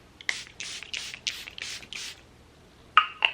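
Six quick hissing bursts from a Charlotte Tilbury Airbrush Flawless setting spray bottle sprayed onto a face in steady rhythm, close up, followed by a couple of sharp clicks.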